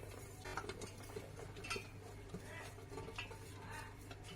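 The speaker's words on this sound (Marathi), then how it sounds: "एक स्टीलचं भांडं घ्यायचंय आणि ही काय सगळी कैरी याच्यामध्ये घालून घ्यायची आहे" Raw mango pieces dropped into a steel pot, giving faint scattered clinks and light metallic knocks against a quiet background, with a soft hum beneath.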